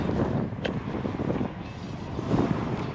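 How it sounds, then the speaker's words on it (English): Strong wind roars steadily across the microphone while cycling in southern Taiwan, a loud, dense rumble that swells and eases slightly but never stops; no speech is heard. "Oh, we found some wind here."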